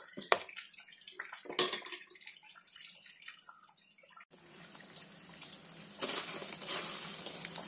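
Grapes are dropped into a jar for homemade grape wine, giving soft irregular wet thuds and rustles up close, then a denser continuous tumbling pour of fruit in the second half.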